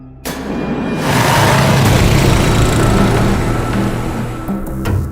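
A motorbike engine roars up loudly and close, holding a dense, sustained drone for several seconds before a sharp cut near the end, with no voices over it.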